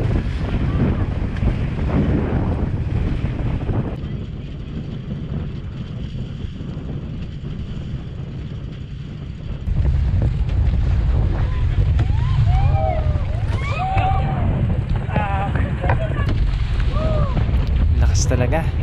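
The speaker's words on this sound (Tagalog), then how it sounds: "Grabe, lakas ng alon. Kita nyo naman, bounce ng bounce ang bangka." Small outrigger boat pitching over strong waves off Fortune Island, Nasugbu, Batangas, with heavy wind buffeting and steady engine and water rush throughout, the roar intensifying partway through, and faint voices and squeaks over it.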